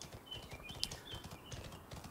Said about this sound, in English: And there are horses here.